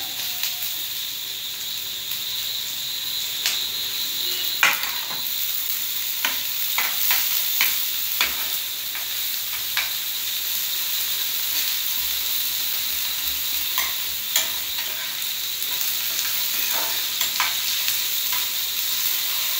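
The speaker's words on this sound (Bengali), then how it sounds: "পেঁয়াজটা লাল হওয়ার জন্য আবার একটু নুন দিচ্ছি।" Onions frying in a pan for Bengali-style fried rice, a steady close sizzle and hiss running throughout, broken by scattered scrapes and taps of a spatula stirring against the pan.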